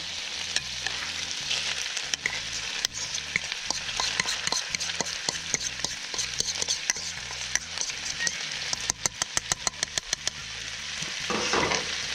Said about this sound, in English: we're going to stir that through.